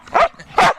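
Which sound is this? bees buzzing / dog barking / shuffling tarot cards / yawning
dog barking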